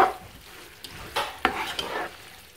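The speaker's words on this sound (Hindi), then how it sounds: "मैं इसको मिक्स करूँगी।" A spoon stirring cheesy peri peri chicken pasta in a pan, a few soft scrapes and light knocks over a faint sizzle, close and brief.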